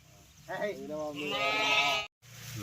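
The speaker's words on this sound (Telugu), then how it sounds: "గొర్రె పిల్లలన్నీ వేసుకొని వెళ్ళిపోవాలి" A sheep gives one long, wavering bleat in a village farm setting. It is loud and close, and ends abruptly.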